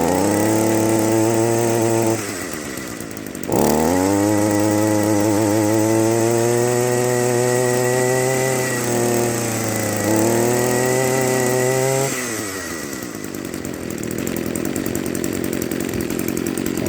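A fully restored old Echo string trimmer engine runs close by with a loud, buzzing two-stroke drone. It dips briefly, then revs back up and wavers in pitch before settling to a lower idle.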